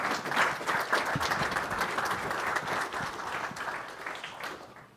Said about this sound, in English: Let's give them a round of applause for a good job done.